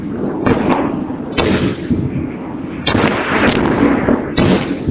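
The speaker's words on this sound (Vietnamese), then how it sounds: "Tiếng đạn pháo nổ, các giao tranh diễn ra dọc biên giới Liban, Israel vào sáng nay" Artillery shells exploding during fighting along the Lebanon-Israel border, several loud sharp blasts at irregular intervals, each followed by a rumbling roar and echo, heard alone without speech.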